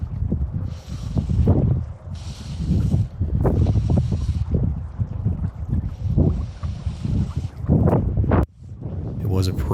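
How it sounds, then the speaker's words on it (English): Gusty wind buffets the microphone on a windy day by super choppy water during fly fishing, coming in loud repeated rushes with brief lulls between them. "It was a pretty windy day at this point and the water was super choppy"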